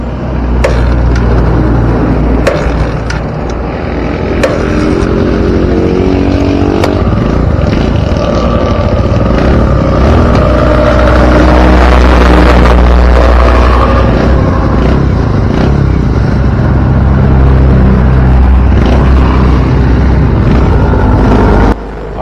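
A motorcycle engine runs after a new stator is installed, its uncharged battery still able to start it, giving a loud, continuous rough rumble close by with some clattering and handling noises throughout.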